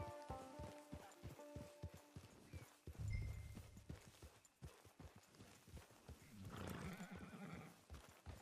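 Horse in the Red Dead Redemption II game, with a whinny and steady clip-clopping hooves on the ground, repeated evenly throughout at close range, with a louder burst of activity near the end and no talk.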